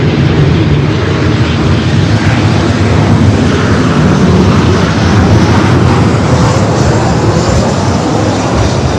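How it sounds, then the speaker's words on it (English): A Delta Boeing 737-900ER jet arriving from Salt Lake City roars loud and close on landing at Los Angeles International Airport, a dense broadband rumble holding steady for the whole stretch with no voices. "Delta Flight 841 coming in from Salt Lake City, 737 and 900 ER"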